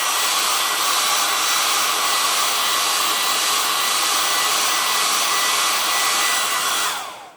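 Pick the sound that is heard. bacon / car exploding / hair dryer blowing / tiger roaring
hair dryer blowing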